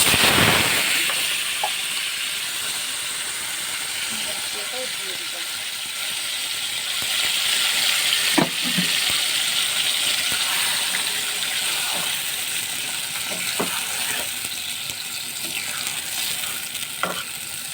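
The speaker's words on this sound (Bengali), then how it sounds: "তেলটা গরম বসিয়ে দিয়েছি গরম হয়ে গেছে আপাতত মাছ দিয়ে দিলাম" Whole Lotia fish frying in hot oil gives a steady, loud sizzle that holds throughout, with a few sharp clicks and clinks of utensils on the pan rising above it.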